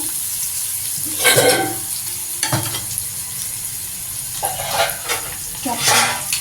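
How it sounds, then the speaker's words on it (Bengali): Beans, carrot and capsicum are stir-fried in a pan, with scraping stirs and bursts of sizzle coming every second or so over a soft background hiss, close and fairly loud, with no talking. "বিনস দিলাম, গাজর দিলাম, ক্যাপসিকাম দিলাম, দিয়ে এগুলো আমি একটু কষিয়ে নেব।"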